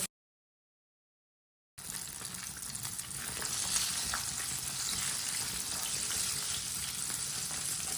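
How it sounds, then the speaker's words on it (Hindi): Chicken pakoras fry in hot oil with a dense, steady hiss and crackle that starts abruptly after a short silence and continues close and even, with no voices. "चिकन को इसी तरह ना अच्छी तरह फ्राई कर लेंगे।"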